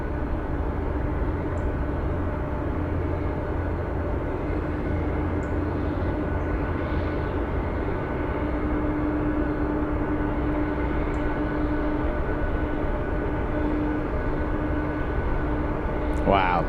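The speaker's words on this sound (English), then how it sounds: "That's the Beech 1900 back taxiing on runway 33." Beech 1900 turboprop back taxiing on runway 33 in Anchorage, a steady distant engine drone with a faint sustained whine, as a person talks in the background.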